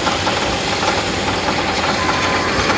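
A tractor engine runs steadily at a boring site, a loud, continuous knocking drone with no breaks and no talk.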